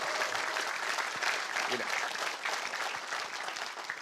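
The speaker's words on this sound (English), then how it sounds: "you can applaud the Atlantic people" A crowd at a political rally in Nova Scotia claps in steady, continuous applause with voices and cheering mixed underneath.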